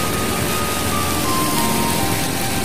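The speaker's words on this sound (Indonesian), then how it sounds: "Hujan makin lama makin besar, bukannya mengecil." Heavy, steady rain pours down beneath a railway bridge in Bumiayu, a dense continuous hiss filling the space with no pauses, loud and close throughout.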